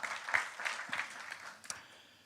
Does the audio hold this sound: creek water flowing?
no